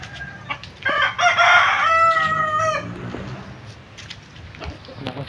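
A rooster crows loudly nearby, one long drawn-out call, amid the scattered clucking of other chickens.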